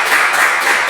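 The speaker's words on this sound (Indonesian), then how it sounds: "Boleh tepuk tangan semuanya yang di ruangan ini" Applause from everyone in a room at a design podcast event in Mojokerto, a dense, steady wash of clapping heard close and continuous through the moment.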